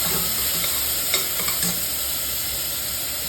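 Chopped tomato fries with spices in a pan for a paneer biryani, giving a close, continuous sizzle with a few faint stirring scrapes and no voices.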